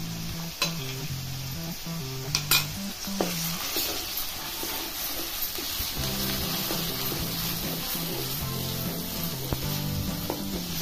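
A tomato, onion, ginger, garlic and cashew paste sautés in a pan for mixed vegetable bhaji, giving a continuous sizzle with repeated spatula scrapes and clinks against the metal, close and fairly loud.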